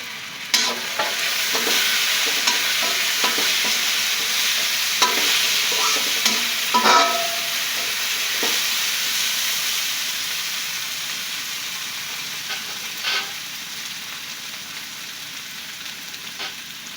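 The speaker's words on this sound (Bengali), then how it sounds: "খিচুড়ির জন্য এই পোলার চাল সব কিছু দিয়ে ভেজে নিচ্ছি" Polao rice being fried for khichuri in a pan, a steady broad sizzle with intermittent scraping stirs, close and fairly loud, gradually settling over the stretch without any talk.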